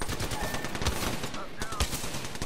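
Apex Legends gunfire, rapid automatic shots in quick bursts, loud and close, packed densely over a brief moment of combat with some voice underneath.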